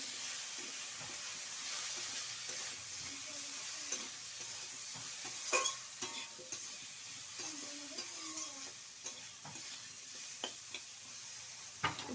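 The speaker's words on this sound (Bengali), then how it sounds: "এবার লবণ দিয়ে ভালো করে নেড়ে নেবো" Soft stirring and scraping in a frying pan of okra, freshly salted, with a low steady sizzle and occasional light clicks of the spatula, quiet and close.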